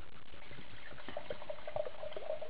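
Red wine pours from a bottle into a glass, a soft trickling gurgle that rises in pitch as the glass fills, steady and close with no talking.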